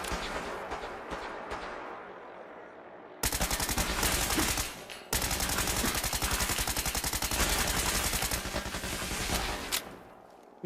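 Automatic gunfire in the video game Fallout 4 rattles out in a long, rapid, evenly spaced burst that briefly stops and then resumes for several more seconds, loud and close, with faint scattered shots before it.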